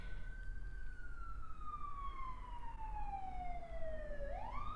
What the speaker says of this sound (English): So I just heard a siren